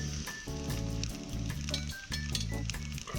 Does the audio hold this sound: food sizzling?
yes